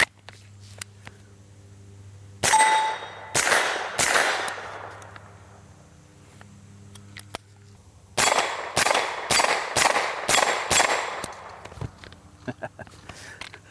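A suppressed CMMG Mk17 rifle with a delayed blowback bolt fires two quick bursts, three sharp shots, a pause, then a rapid string of about seven, under a low steady hum.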